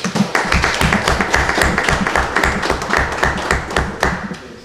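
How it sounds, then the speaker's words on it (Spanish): Audience applause at a ceremony handing over printers and laptops to a technology institute's director, dense steady clapping sustained throughout, fairly close, with no talk over it. "Un aplauso, por favor"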